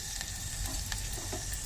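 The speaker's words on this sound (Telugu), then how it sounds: "ముందుగా గిన్నెలో నెయ్యి వేసుకొని అందులో పచ్చిమిర్చి ఉల్లిపాయలు వేసుకొని లైట్గా వేపుకోవాలి" Green chillies and onions frying in ghee in a cooking pot, a steady soft sizzle with faint crackles throughout and no talking.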